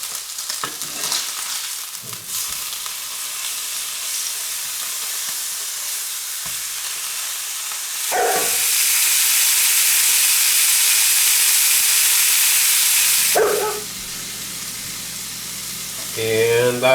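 Steak and yellowfoot chanterelles fry over low heat in a pan, a steady close sizzle that swells into a louder hissing surge midway before settling back, with a few utensil clicks.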